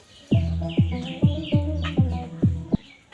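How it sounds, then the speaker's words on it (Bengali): Birds in a Bangladeshi village call in a steady, repeating rhythm of about two notes per second, close and fairly loud, with faint chirps above; no wind is clearly audible. "একদিকে পাখির কিচিরমিচির আর বাতাসের শব্দ"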